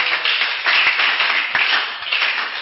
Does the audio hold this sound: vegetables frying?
no